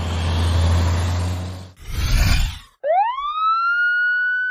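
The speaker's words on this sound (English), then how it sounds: "Police car." A police car siren rises sharply and then holds a loud, steady wail at close range, coming in right after a short burst of engine and traffic noise, with no voices.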